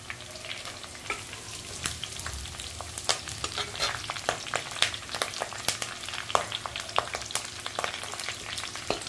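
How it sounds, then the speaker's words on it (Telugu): Curry leaves sizzle in hot oil while tempering a chicken curry, a steady crackling fry dotted with frequent sharp pops and spits, close and moderately loud. "ఇదిగోండి కరివేపాకు వేస్తున్నానండి."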